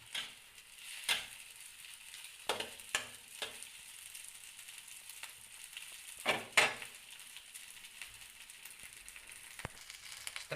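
Spicy-sweet fried rice sizzling and frying in a wok, a soft steady crackle broken by a few sharp scrapes and clinks, quiet and close with no talking.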